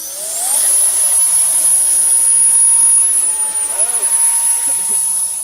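A radio-controlled 3D aerobatic plane's engine whines loudly and steadily at takeoff, a high sustained tone that shifts pitch as it climbs away, with talk nearby.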